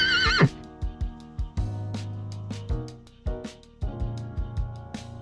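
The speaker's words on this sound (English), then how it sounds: "horse" Horse gives a sharp, high whinny at the start, followed by a series of snorts and rhythmic clip-clop hoof beats, close and distinct with no voices.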